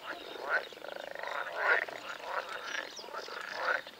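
Frogs croaking near a pond fishing spot during a crucian carp competition, a loud chorus of rattling, pulsing calls that rise and fall in repeated bursts close by.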